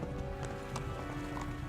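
A horse's hooves clip-clop in Kingdom Come: Deliverance, with a few scattered, soft strikes over a quiet, steady ambient bed.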